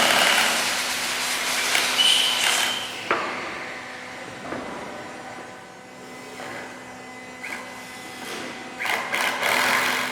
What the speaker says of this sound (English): These blocks will be attached under the decking and secured with wood screws through the joists on each side.